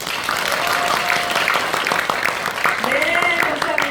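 Audience at a blockchain business association's fifth-anniversary ceremony and forum applauding, clapping running steadily under a voice that talks over it.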